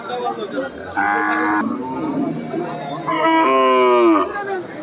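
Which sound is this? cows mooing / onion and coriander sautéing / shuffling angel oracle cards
cows mooing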